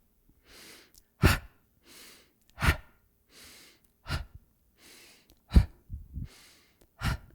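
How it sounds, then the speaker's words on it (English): Forceful exhaled breaths paired with twisting movements in a meditation session, a regular rhythm of sharp, close puffs of air alternating with softer inhales, with no voice over them. "aim for a more invigorating and more energizing breath by exhaling with each turn"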